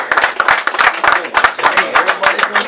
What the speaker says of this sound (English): Clap that shit up.